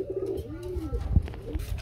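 A pair of pigeons murmur low, rolling coos at close range, a few swelling calls with a soft thump partway through and no one talking.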